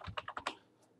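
Quick keystrokes on a computer keyboard, about five soft clicks in a rapid burst, close and quiet, then a faint final tap.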